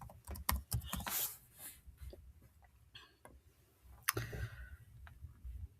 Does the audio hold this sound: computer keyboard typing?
yes